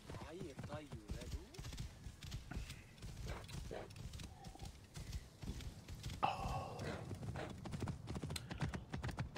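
Rhythmic clip-clop of horse hooves in the video game Assassin's Creed Origins at a steady walking pace, close and clear, with talking over much of it.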